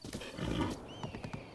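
Horse hooves from The Legend of Zelda: Breath of the Wild: a quick patter of clip-clop footfalls near and moderately loud, with a brief snort or whinny-like tone partway through, no speech over it.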